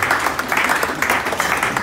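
A church congregation claps after a scripture reading, brisk and close, a steady patter of hands with faint voices underneath.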